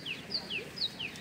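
Small birds give several short, high chirps in quick succession against faint background noise, with people close by in a field during a rice planting day.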